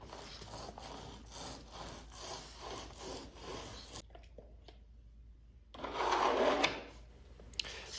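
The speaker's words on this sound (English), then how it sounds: "you take a squeegee and take the excess epoxy off of here" A squeegee scrapes excess epoxy off a fiberglass kayak hull in a run of rhythmic rubbing strokes, followed by a quiet pause and then one louder, rougher scrape close by.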